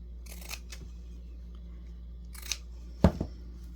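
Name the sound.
scissors cutting a decorative strip of fabric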